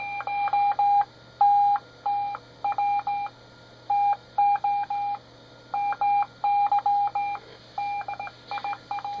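Vietnam-era PRC-47 transceiver keying a steady oscillator tone in short on-off bursts like Morse code, a clean beeping pattern over faint background hiss.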